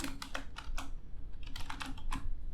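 Code being typed on a computer keyboard, a quick irregular run of close, crisp key clicks in short bursts with brief gaps, fairly quiet and alone.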